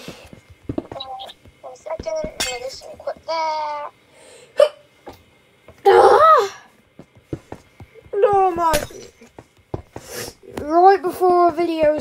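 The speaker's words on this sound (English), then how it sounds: "Why do I have to have a sneeze?" A single sharp sneeze bursts out midway through a stretch of a child's chatter in a quiet room, loud and close, surrounded by short vocal sounds and talking.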